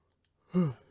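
A single soft yawn with a breathy, voiced exhale, brief and close, in a quiet moment between casual conversation about basketball.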